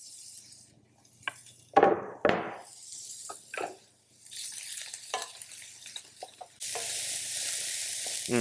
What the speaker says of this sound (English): So onions and garlic are going in.